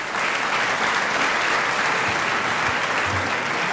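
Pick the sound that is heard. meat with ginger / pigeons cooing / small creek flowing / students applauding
students applauding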